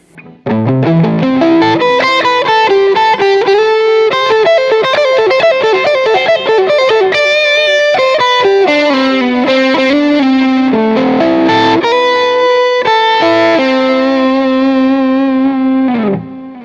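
A distorted electric guitar lead plays a sustained melodic line with effects and reverb, loud and continuous, ending on a held note.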